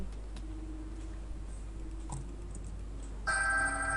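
A telephone ringtone starts suddenly near the end, a bright, loud, tonal ringing that follows a few seconds of quiet room noise with faint clicks, like keyboard tapping.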